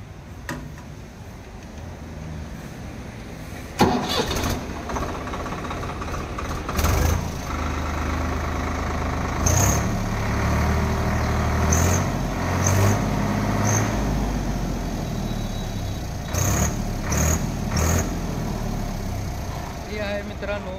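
A Swraj 744 XT tractor's diesel engine fires up with a sharp start, then settles into a steady, loud idle, with a few clanks and clicks on top and someone talking over it.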